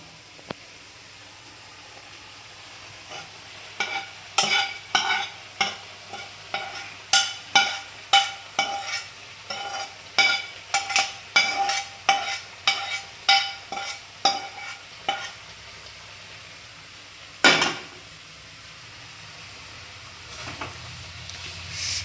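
A paneer chatpata dish being stirred in a pan, giving a steady run of scraping, clattering strokes over a low sizzle, close and fairly loud, with one sharp clank near the end.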